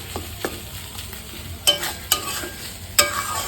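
Bottle gourd leaf paste scraped and stirred in a frying pan as it dries, with soft sizzling under a few sharp spoon-on-metal clacks spaced irregularly, close and alone.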